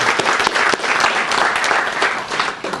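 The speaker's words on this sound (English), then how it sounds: "give him a round of applause" A crowd at a 911 call center accreditation ceremony applauds steadily, a thick continuous patter of many hands clapping close by, fading slightly toward the end.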